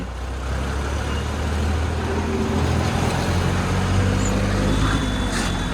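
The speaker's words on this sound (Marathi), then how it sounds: "पुढं लोलर चालू आहे" A road roller runs on a road near Nashik, a steady low diesel rumble mixed with general traffic noise, moderately loud and continuous, with a brief higher mechanical squeal near the end.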